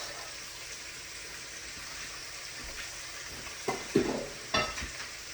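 Cut-up tomatoes and onions simmer in butter in a pan over medium heat, making a soft, steady sizzle, with a few louder stirring clatters near the end.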